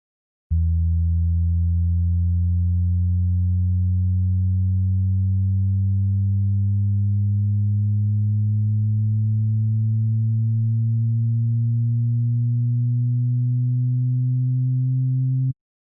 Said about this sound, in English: this pitch bend started going up